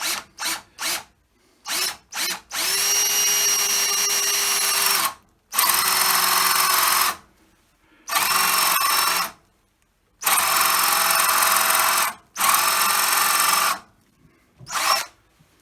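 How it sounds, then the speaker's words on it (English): A 16mm Irwin speed bore bit drills a dowel hole in a wooden Adirondack lawn chair, the power drill running in several loud whining bursts of one to three seconds separated by short pauses. "here's the setup for drilling in for the dowel. I've got the 16mm bit, the Irwin 16mm speed bore bit"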